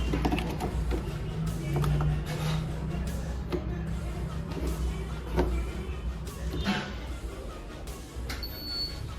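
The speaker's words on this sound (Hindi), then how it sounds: "ये शुरू के 5 सेकंड से आवाज़ करती है। फैन चलता है इसका अंदर का" An electric vehicle's internal cooling fan runs while the car charges, giving a steady, fairly loud mechanical whir with a low hum and occasional small clicks and knocks.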